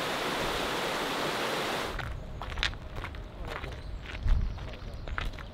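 A dense broadband rush of flowing river water in Wales fills the first two seconds, then drops back under crunching footsteps and faint rustling nearby.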